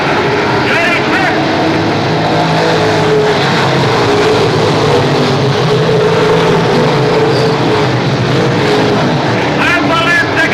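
Stock cars racing around Seekonk Speedway in a Sportsman or Pro Stock event, a steady loud roar of engines filling the whole stretch while an announcer calls the race over it.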